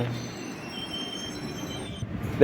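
An express train pulls into Paravur railway station in Kollam district, a building from 1918, its wheels squealing steadily on the rails with a continuous metallic rumble, close and fairly loud throughout.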